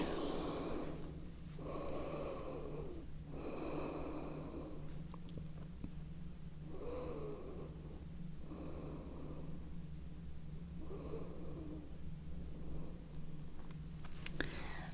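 Slow, deep breathing of a person resting in child's pose during a yoga session, several long breath cycles heard close and soft over a steady low hum.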